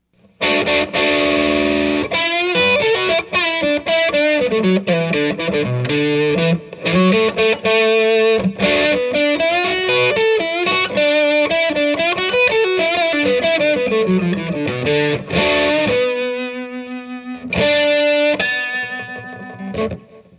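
Heavily distorted electric guitar with delay playing a melodic solo line with echoing repeats, loud and continuous, briefly thinning before returning.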